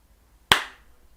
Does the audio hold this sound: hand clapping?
yes